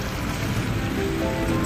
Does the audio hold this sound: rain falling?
yes